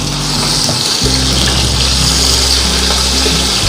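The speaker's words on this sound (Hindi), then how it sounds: "थोड़ा सा पानी डालूंगी।" Water poured into a cooking pot holding browned onion and ginger-garlic paste, a loud, steady gushing splash with a brief dip partway, continuous and close.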